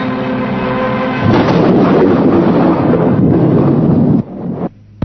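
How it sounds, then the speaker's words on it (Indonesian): Deep, loud thunder rolls and cracks through a stormy roar, building sharply after a quieter start and cutting off abruptly near the end, with no voices present. "dalam guruh dan petir."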